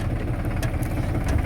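Tractor engine idling at a sand pit on the Banas river, a steady low rumble close by for the whole moment with no voices over it.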